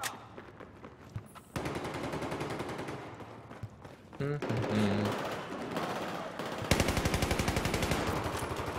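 Video game gunfire in Battlefield 4: dense bursts of rapid automatic fire, loud and close, come in long rattling streams with a few single shots, under intermittent talk.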